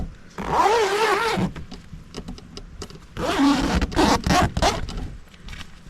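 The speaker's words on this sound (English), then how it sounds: "And we got the zipper door." Zipper door on a New View Hunting ground blind, pulled in two quick, close rasping zips separated by a short pause.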